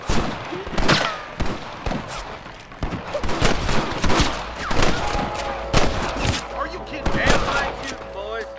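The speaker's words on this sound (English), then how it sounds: "Damn right shooting, boys." Gunfire during a shootout in the western game Red Dead Redemption, rapid irregular volleys of sharp shots, close and loud, crackling steadily over several seconds with shouting voices mixed in.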